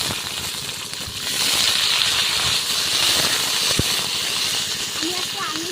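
Grapes, mustard seeds, cardamom, cinnamon and dried chillies hit hot oil in a pan for a tomato-grape chutney, giving a steady loud sizzling hiss with faint pops and rattles throughout.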